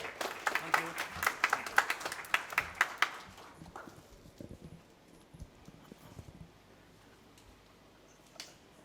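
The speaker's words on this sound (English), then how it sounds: "let's welcome with a very big thunderous round of applause, Dr. Rajesh N." An audience in Nagpur claps to welcome Dr. Rajesh N. Joshi at the Advantage Vidarbha event. The fairly faint applause is crisp for about three seconds, then thins to a few scattered claps over quiet room noise.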